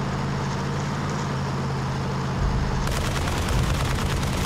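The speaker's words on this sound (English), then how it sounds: "Oh, he's shooting." Gunfire in the video game Battlefield: Bad Company, a dense rumbling barrage of shots and booms that grows louder and heavier partway through, with no voices over it.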